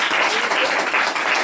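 A small live-music venue audience applauding, a dense, loud wash of clapping that continues steadily through the whole moment.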